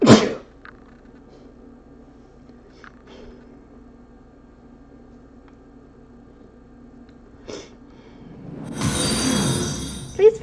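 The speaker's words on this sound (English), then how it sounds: "I did not mean to sneeze." A single sharp sneeze bursts out at the very start, loud and close, followed by quiet room sounds with a few faint clicks and a rustling, noisy stretch near the end.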